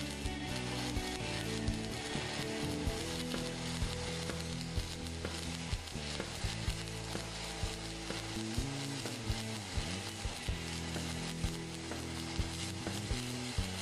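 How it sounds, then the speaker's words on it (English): A stick welding arc from a 7018 rod laid over a 6010 pass crackles and sizzles steadily and close up, a dense frying hiss with small irregular pops throughout and no voices. "If you're listening to the arc, you know it's welding right in the zone. It's a crisp, sweet sound."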